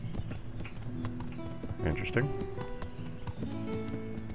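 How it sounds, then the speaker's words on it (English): Hoof clip-clops from a horse in the game Kingdom Come: Deliverance, steady and moderately loud, with someone talking over them and a brief whinny-like sound midway. "So here I am on my horse."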